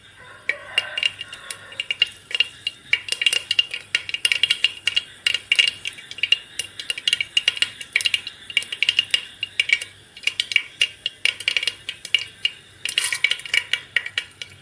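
Mustard seeds splutter and pop in hot oil in a pan, a steady stream of sharp crackles and tiny bursts running close and continuous with no voices.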